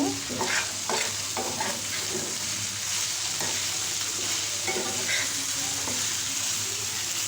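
Bitter gourd frying in a pan, a constant close sizzle with repeated spatula scrapes and clinks as the slices are turned every few seconds.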